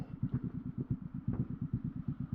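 A motorcycle that has just been dropped twice runs at a close, steady idle. Its low engine pulses thud quickly and regularly for the whole stretch, with no talking.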